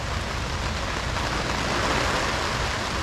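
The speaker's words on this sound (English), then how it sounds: "You can probably hear the rain hitting the canopy." Steady rain drums on a camp canopy at a riverside campsite while buns toast outdoors, a dense continuous patter with no break, close and fairly loud throughout.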